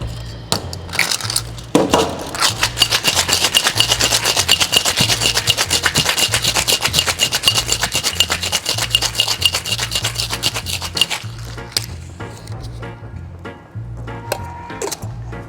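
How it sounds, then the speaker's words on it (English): Cocktail shaker filled to the top with ice for a Bees Knees, shaken hard, giving a loud, steady rattling rasp of ice against the tin for about ten seconds before tapering off. "Now, it's time to ice up all the way to the top, and we're gonna give that a firm shake."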